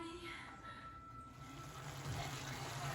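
Tap water running steadily while food is washed in a kitchen sink, a faint continuous splashing stream that swells slightly toward the end.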